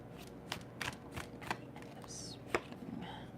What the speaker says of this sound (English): Let me pull this card real quick.